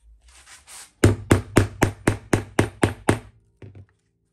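A metal rivet is set into a leather belt with a rivet setter on a small anvil: a few soft taps, then about nine sharp, evenly spaced hammer blows close up, and two lighter knocks at the end.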